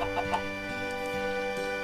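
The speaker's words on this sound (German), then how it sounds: "Oh, Hühner!" Chickens clucking in Minecraft, a few soft, short clucks near the start over a continuous background music bed, faint and with no one talking.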